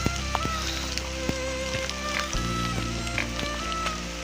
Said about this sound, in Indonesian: dan juga cuacanya hujan